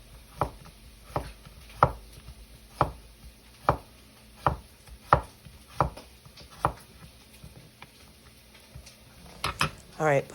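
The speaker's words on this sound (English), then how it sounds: "Try to cut these roughly the same size." Knife chopping vegetables into rough even pieces on a cutting board, a steady series of about a dozen crisp, close thunks at a regular pace, with a quicker cluster of cuts at the end and a faint voice now and then.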